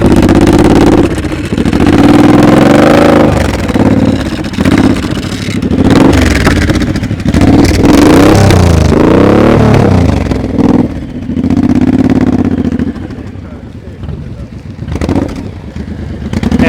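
Motorcycle engine revving in loud, uneven bursts during slow-speed riding practice, the pitch rising and falling as the throttle is worked, with people talking close by.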